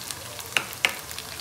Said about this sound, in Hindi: इसको ज़्यादा ब्राउन नहीं करना है, बस इतना हल्का सा सौते कर लेना है